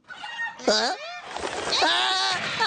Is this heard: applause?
no